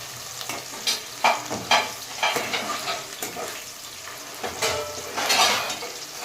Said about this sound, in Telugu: మంచిగా గోల్డ్ కలర్ వచ్చిన దాకా కలుపుకోవాలి.